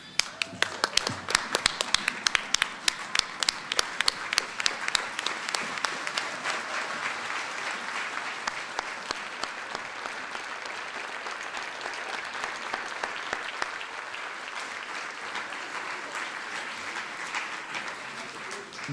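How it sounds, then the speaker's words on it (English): An audience at a Berkeley-Columbia Executive MBA commencement ceremony applauds the graduates, sustained dense clapping that starts with sharp individual claps and settles into a steady, loud wash lasting the whole stretch. "stand and applaud our graduates."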